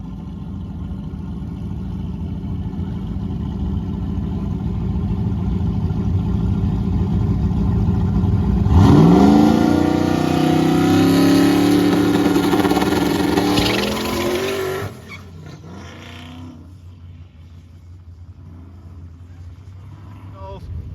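A car engine revs hard to full turbo spool, a loud rising whine that holds for several seconds and then drops off, with people talking around it.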